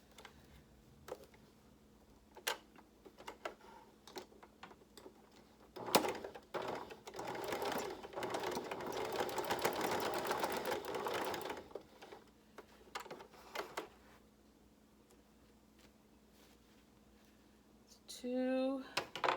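A home sewing machine runs diagonal reinforcing stitches across the elastic at the corners of a fabric face mask, with a long steady burst of motor whir between shorter clicks and taps, and a voice speaking faintly in the room.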